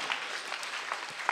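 Soft applause from a church congregation during a praise and worship service, steady scattered clapping heard from a distance and fairly faint.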